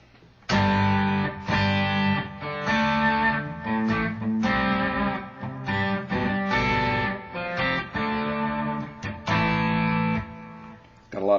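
An electric Stratocaster plays on its bridge pickup through an Xotic BB preamp with low gain, giving a lightly driven tone. A series of strummed chords and riffs rings out clearly in the foreground, with no voices.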